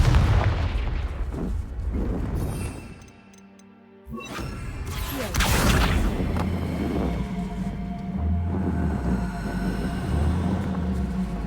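Confringo blasting spell in Hogwarts Legacy bursts into a loud, booming explosion, with a heavy impact near four seconds and a rumbling, crackling roar around it.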